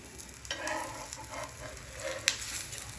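Makai methi thepla cooking on a pan with a little oil, giving a soft steady sizzle and stirring scrape that rises as oil hits the pan, with a sharp clink near the end and no voices.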